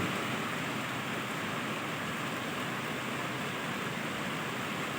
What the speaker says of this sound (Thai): จะมีเสียงฝน